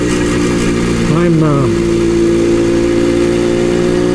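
An old motorcycle engine runs steadily and loudly throughout, a constant mid-pitched drone with no clear revving.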